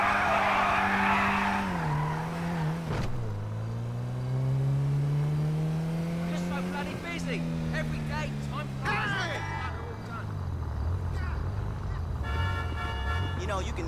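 Cars racing in Grand Theft Auto V, with engines revving and rising in pitch and tyres skidding and squealing, loud and close, over a busy mix of other game sounds.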